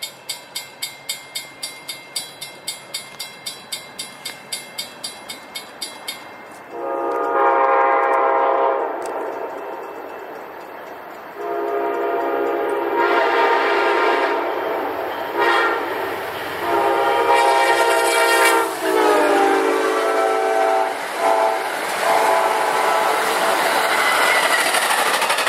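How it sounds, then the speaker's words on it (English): Amtrak 91, the Silver Star, a southbound passenger train, rolls by with a long, loud horn blast and rumbling wheels, after a quick series of rhythmic clicks at the start. "here comes another train, Amtrak 91, the Silver Star,"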